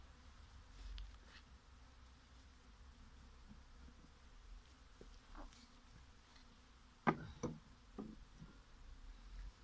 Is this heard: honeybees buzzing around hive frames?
yes